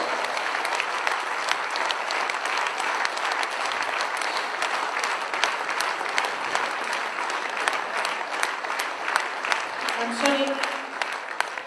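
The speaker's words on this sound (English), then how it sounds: "I think though Dr. Lim Seo-jin requires a standing applause." An audience gives a standing ovation, a sustained, even stretch of many hands clapping in a large hall, with a brief voice near the end.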